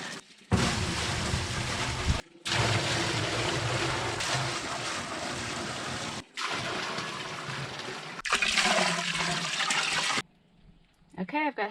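Water gushing into a barrel for slaking lime on an off-grid homestead in Portugal, a loud steady rushing pour broken by a few short pauses, ending with brief faint trickles.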